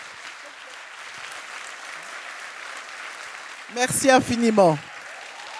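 An audience applauds a grandmother at a mini a cappella concert, with a steady wash of clapping that carries on before a nearby voice speaks briefly over it near the end.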